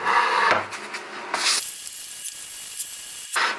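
Hand sanding of a wooden worktop, a broad steady abrasive rasp running close and fairly loud for most of the stretch, with brief pauses and shifts in pressure, no talk.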